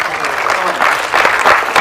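An audience at a professional symposium claps, a brief, fairly loud burst of mixed applause with a voice sounding over it.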